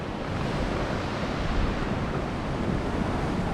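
Choppy sea with waves breaking against nearby rocks as the tide comes in, steady broadband wash of surf mixed with gusting wind buffeting the microphone, loud and continuous throughout.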